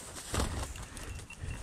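A quail flaps its wings during a hunt on a plantation, a brief, close flurry of soft fluttering bursts that swells, fades, then returns weakly, with no talk.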